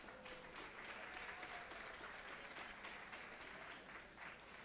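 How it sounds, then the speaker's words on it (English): Crowd applauding for House candidates at a Hawaiʻi County Democratic Party primary rally, a steady dense wash of clapping held at even level throughout without speech. "Big round of applause for all of our House candidates"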